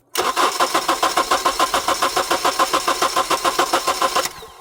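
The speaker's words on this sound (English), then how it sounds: "now we'll turn the vehicle over" Honda CR-V engine cranking over with the fuel pump fuse pulled, a loud rhythmic starter churn of about fifteen even pulses that stops abruptly without the engine catching.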